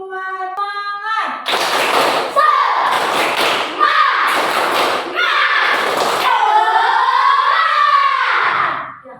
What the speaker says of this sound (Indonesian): kita tepuk semangat dulu ya